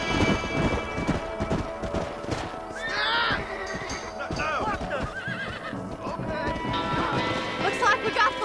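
Horses gallop and whinny loudly in a Red Dead Redemption cinematic set outside Armadillo, with repeated neighs and steady hoof clatter over a busy mix of rumbling background sound.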